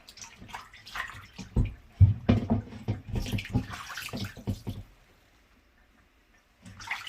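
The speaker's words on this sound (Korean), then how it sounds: "이제 소금물에다가 담궈서 다시 한번 또 세척을 하겠습니다." Thawed bluefin tuna otoro is swished and rubbed in a basin of salt water, giving sloshing, splashing water sounds that stop into near silence before resuming briefly.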